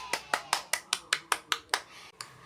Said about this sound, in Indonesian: Berikan aplaus anak-anak.